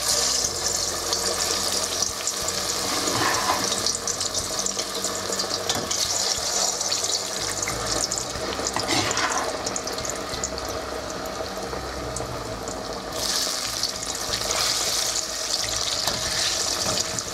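Plantains deep-fry in hot oil, Ghanaian style, giving a steady, loud, hissing sizzle that carries on without a break and swells slightly toward the end.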